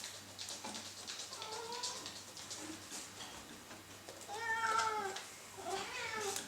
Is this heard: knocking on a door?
no